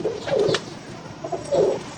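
Soft, throaty coos from a flying pigeon repeat in a low rolling rhythm, close by, with no talking.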